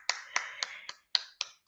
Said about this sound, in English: Hand clap for Prince Harry.